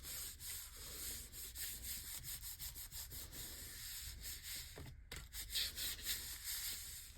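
A paper flap is rubbed down by hand to press and spread glue on a beginner's craft album, making soft repeated scuffing strokes at close range with a brief pause midway.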